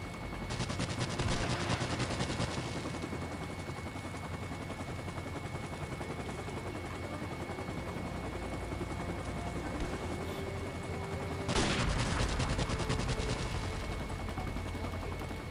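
Gunfire and an enemy helicopter in a Call of Duty DLC multiplayer map: steady rotor drone with bursts of rapid shooting near the start and a louder volley around the twelve-second mark.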